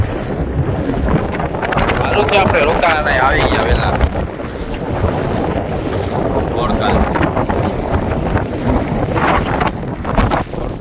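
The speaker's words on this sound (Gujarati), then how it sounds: "પવન નીકળ્યો છે ફૂલ" Strong wind buffets a fishing boat at sea in cool winter weather, a loud continuous roar and rush of gusts with water sloshing beneath, while people talk over it throughout.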